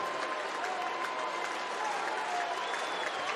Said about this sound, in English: this crowd coming alive